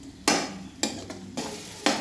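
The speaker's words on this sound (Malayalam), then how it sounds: "ഉള്ളി നന്നായിട്ട് ബ്രൗൺ കളറായി വരുന്നുണ്ട്" Onions frying in a pan being stirred, four sharp scraping strokes of a spoon against the pan at irregular intervals over a soft background sizzle.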